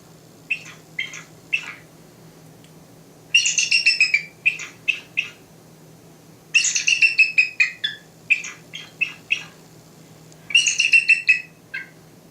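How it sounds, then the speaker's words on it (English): Recorded eagle calls played back as a series of high, repeated chirping bursts, several sharp notes per phrase, clear and alone over a faint background hum. "we're going to go to the eagle sounds, and now we're going to hear the sounds"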